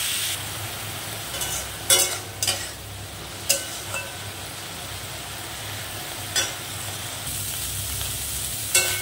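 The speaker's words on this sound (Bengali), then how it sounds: "চিংড়ি মাছ কাটাকে আমি সুন্দর করে ভেজে নেব।" Chopped prawns frying in oil in a kadai, a steady loud sizzle punctuated by several sharp spatula knocks and scrapes at irregular intervals.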